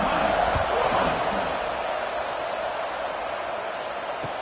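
Football stadium crowd at a UCLA game just before kickoff, a broad steady roar filling the space evenly throughout without breaks.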